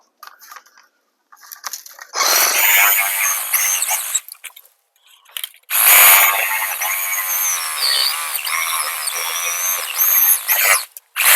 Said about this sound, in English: The Sawzall works great for multiple projects.